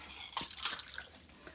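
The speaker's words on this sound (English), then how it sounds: "I'm going to, for a little bit, give it some water also" Water poured from a can onto seeds in a strawberry tower planter, a faint, brief splashing patter with light clinks, close by and quiet.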